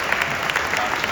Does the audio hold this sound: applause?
yes